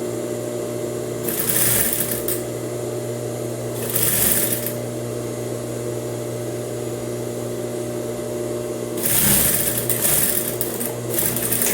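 A sewing machine stitching a blouse seam runs in three bursts of rapid needle clatter with a steady motor hum, pausing between runs and ending with a short reverse stitch.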